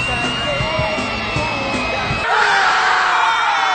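A little girl's screaming sound effect over a Hollywood parade scene in a Cool Cat cartoon, with crowd yells and whoops mixed in and a louder, brighter scream surge in the second half.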